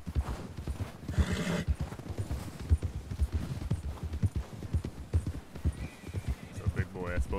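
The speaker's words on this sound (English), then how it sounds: "He's a Breton, it's a big ass horse." A big Breton horse carrying a rider walks with steady clip-clopping hooves close by, a whinny breaking in partway through, while people talk over the sound.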